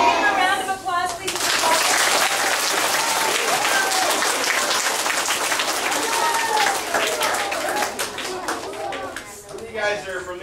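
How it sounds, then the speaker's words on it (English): A first-grade class applauds a visiting drummer, dense enthusiastic clapping from many children lasting about ten seconds, with excited voices and a speaking adult heard at the start and end. "Give him a round of applause, please."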